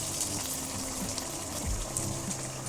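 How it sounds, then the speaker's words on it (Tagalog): Boiled water poured into tomato sauce in a pan, a soft steady hiss and trickle with faint bubbling, low and close, no voices. "Ito na po yung tubig na pinakulo ko."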